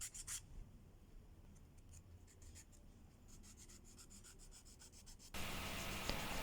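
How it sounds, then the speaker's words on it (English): Sandpaper is rubbed over a sculpted EVA foam prop in quick rhythmic strokes, faint and close at first. The stroking grows more regular before an abrupt louder broadband rush near the end, with no talking. "Then, sandpaper for the best result."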